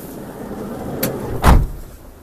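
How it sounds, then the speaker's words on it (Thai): A 2018 Toyota Commuter 3.0 van door slams shut in one solid, close thud, with a fainter click just before it over quiet background. "เดี๋ยวผมปิดประตูให้ดู"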